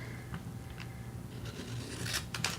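Scissors snip a label off a large silver anti-static bag at a workbench, giving a few quiet rasping cuts that grow slightly louder near the end.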